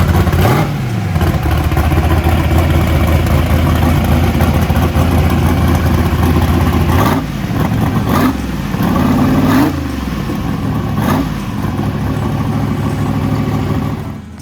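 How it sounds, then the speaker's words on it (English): A small race truck engine idles steadily and loud throughout, warming up to operating temperature, with a few brief revs midway before it settles back to a constant idle. "Billy warmed the little truck up to operating temperature before we stuck it on the deck to check it out"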